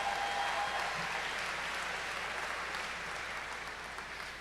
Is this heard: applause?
yes